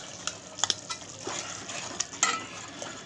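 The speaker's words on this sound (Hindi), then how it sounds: "दही डालने के बाद अच्छे से मिला लें।" Yogurt is stirred into frying masala for fish achari: a soft sizzle sits under scattered clinks and scrapes of a spoon against the pan, quiet and close.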